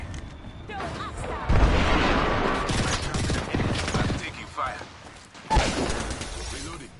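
Gunfire in a video game, loud bursts of shots with cracking impacts and mechanical clatter, coming in waves that surge at the start and again near the end, with voices talking over it.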